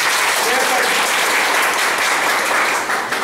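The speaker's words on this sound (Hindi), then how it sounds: "एक बार इनका जोरदार तालियों से स्वागत करें।" A training session's audience bursts into loud, dense applause welcoming a team, a steady wash of many hands clapping close by for over three seconds, easing off slightly at the very end.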